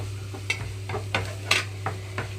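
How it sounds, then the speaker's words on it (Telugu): Carrot pieces frying in a pan with ginger garlic paste: a low, steady sizzle under a steady hum, with several sharp stirring scrapes close by. "ఇక్కడైతే అల్లం వెల్లుల్లి పేస్ట్ కూడా వేగిపోయిన తర్వాత క్యారెట్ కట్ చేసి పెట్టుకున్నాను క్యారెట్ ముక్కలన్నీ వేస్తున్నాను"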